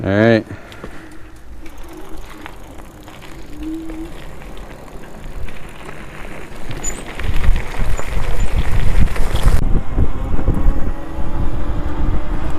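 Riding fast on an Ausom Leopard 52V 1000W electric scooter brings steady wind roar against the microphone that builds louder toward the end, with brief birdsong early on and a short spoken word from the rider.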